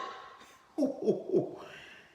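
An owl gives a short series of three hoarse, close hoots in quick succession after a moment of near-quiet, standing alone without any talking.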